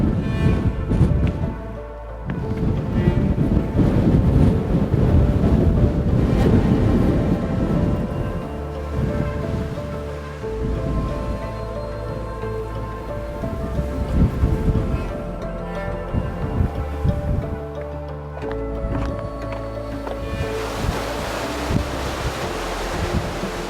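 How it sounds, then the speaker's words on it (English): Strong wind gusts buffet the microphone on Hawaii Loa Ridge in Hawaii, a loud, continuous roar that swells and eases in waves, with deep rumbling buffeting throughout and no talk. "Oh man, so windy!"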